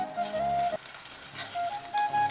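Onions with freshly grated ginger frying in a pan, a crackling sizzle heard close alongside faint tonal hums, brief and steady, with no talking.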